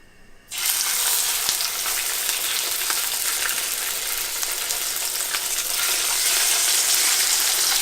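Fish fillets hit hot, lightly smoking oil in a pan, setting off a sudden loud, dense sizzle that holds steady and close after a brief quiet start.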